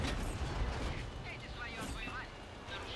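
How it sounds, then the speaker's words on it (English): Tank cannon fire in a tank video game with the Object 430U, a loud booming blast with rumbling low end and mechanical clatter, continuous battle noise throughout. "We auto lock and fire at the Arty"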